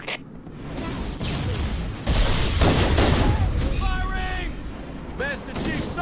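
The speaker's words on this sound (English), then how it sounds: "Taking heavy fire!" Heavy gunfire in a Halo combat battle, dense bursts of shots and mechanical clatter over about six seconds, with metallic whines and other battle sounds layered in.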